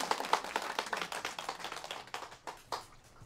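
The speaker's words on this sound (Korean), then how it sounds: "박수로 환영해주십시오." Scattered clapping from a small audience at a seniors' community hall, welcoming a popular singer; irregular hand claps that thin out and fade over a few seconds, fairly quiet and with no talking.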